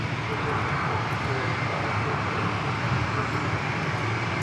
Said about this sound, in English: 7 private jets to take off on taxiway Alpha.